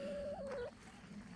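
Hens cluck inside a henhouse in a short, nasal call that rises and falls and is heard up close over low background noise.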